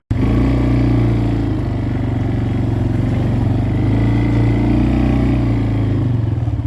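A Kawasaki Bayou four-wheeler ATV drives along trails and over a bridge, its engine a loud, close, continuous low rumble with rattling throughout and no talking.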